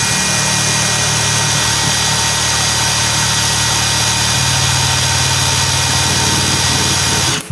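A MEKIBOR 600 Nm cordless impact wrench runs continuously at full speed, a loud, steady close-up whir with a slight shift in pitch midway, no talking.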